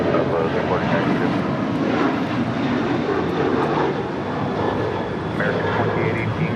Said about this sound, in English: This is American Airlines 2818 taking off to Dallas Fort Worth on a 737-800.